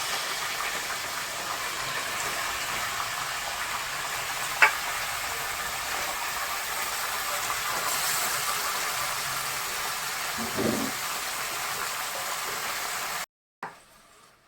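Country chicken pieces being dropped into hot oil with spring onion and two bay leaves, giving a steady loud sizzle with a couple of brief clatters, until it cuts off abruptly near the end.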